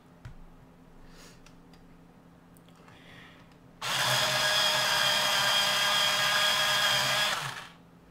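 A Bambino coloring crayon being sharpened, a sudden steady whirring grind that starts partway through, runs loud and close for several seconds, then stops, after quiet room noise.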